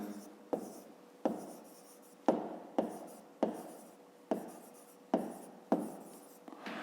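A pen writes on paper by hand in short repeated strokes, each starting with a sharp tap and fading off, close and quiet, in a quiet room.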